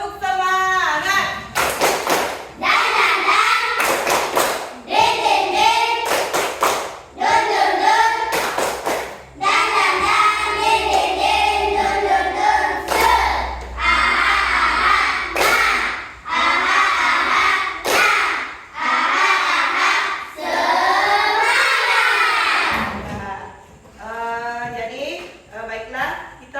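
Rhythmic group clapping in a classroom ice-breaker cheer called tepuk semangat: quick patterned bursts of claps by the class, repeated in short phrases, with children's voices chanting along close by.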